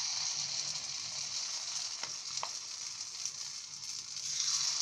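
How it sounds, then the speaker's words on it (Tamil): Kuzhi paniyaram batter hitting hot oil in a paniyaram pan sizzles steadily as a close, continuous crackling hiss with a couple of brief clinks, no voices. "இப்போ நம்ம குழிப்பணியார சட்டியில் ஊற்றிடலாம்"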